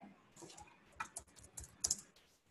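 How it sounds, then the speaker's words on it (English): Quiet, close typing on a computer keyboard while filling in a Google Form, irregular quick clusters of key clicks with a few sharper taps, with no voices. "I need to bring Google Form. I need to type."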